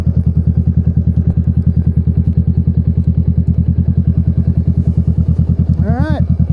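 2017 Honda Rebel CMX500 motorcycle with a loud aftermarket exhaust, idling in a steady, rapid, thumping pulse, close up, before a brief throttle rise at the end.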